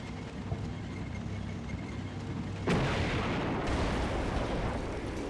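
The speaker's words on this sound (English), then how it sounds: "The ISU here taking another shot across." A single loud heavy gun blast from an ISU 122mm tank gun firing at a StuG in the Combat Mission video game, a sudden booming onset after steady low rumble, with a second hit crashing in a second later.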